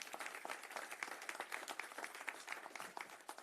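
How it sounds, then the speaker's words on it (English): A crowd at a Houston news conference applauds a new police chief, a dense patter of many hands clapping heard faintly and at a distance, continuous throughout with no talk. "Can we get another round of applause for Chief Benner?"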